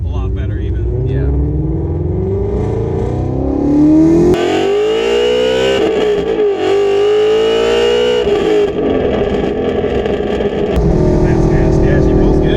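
A tuned flex fuel Ford GT350 engine accelerating on a test drive, its rising droning tone sweeping up and shifting, loud and close, with people talking over it.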